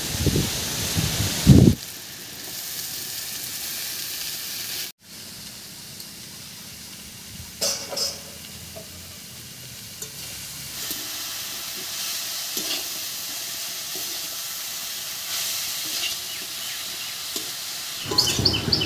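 Chopped greens hit a pan of fried onion, garlic and green chilli with a sudden loud crackle, then settle into a steady, softer sizzle and hiss that continues alone, with a few scraping stirs near the end.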